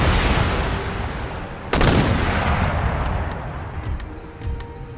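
Foot artillery volleys in the Empire Total War video game: a loud, sharp blast cuts through an ongoing rumble of distant gunfire and battle noise, followed by scattered smaller cracks.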